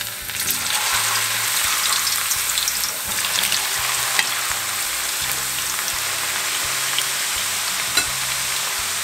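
Liver sizzles and spits steadily in a hot frying pan, a dense continuous crackle that stays even and close throughout, with occasional sharper pops and faint scraping.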